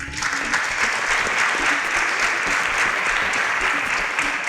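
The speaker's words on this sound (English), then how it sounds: "Round of applause for them." Studio audience at a televised student quiz show applauds steadily, a dense, even wash of clapping that holds at full strength for the whole stretch with no voices over it.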